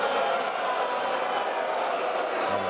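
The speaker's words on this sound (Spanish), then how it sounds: "Los abucheos, las interrupciones, gritos, incluso insultos han marcado el discurso del mandatario estadounidense" Booing and shouting from a crowded chamber during President Biden's State of the Union address, a dense, steady roar of many voices heard from a distance, with a voice starting to speak near the end.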